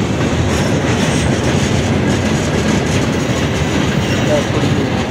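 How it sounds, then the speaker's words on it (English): A Norfolk Southern freight train rumbles slowly past on the tracks in Columbus, Ohio, a continuous heavy roll with faint rhythmic clatter, fairly close and constant throughout. "there was a train that could come through while this train was switching tracks"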